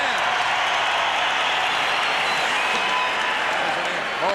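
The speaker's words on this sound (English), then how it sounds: "The applause by the fans." Hockey crowd at a 1990 Bruins playoff game in Boston applauding steadily, a dense wash of clapping that fills the arena, with a broadcast commentator's voice faintly audible over it.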